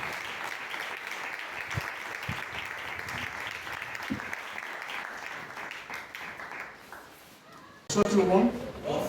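A church congregation applauds in sustained, dense clapping for about eight seconds, fading slightly before a voice speaks at the end.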